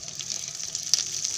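Curry leaves crackling and sizzling in a small amount of hot oil, a steady faint hiss with soft pops, close and alone.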